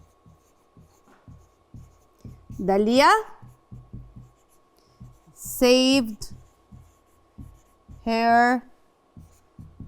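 Writing during an English lesson: short, regular scratching strokes continue throughout, heard under a teacher's intermittent speech.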